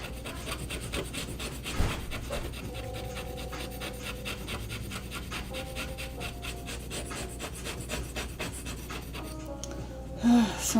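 A puppy pants in rapid, steady rhythm close by for several seconds, blended with rubbing and scraping noise and a brief louder knock near the end.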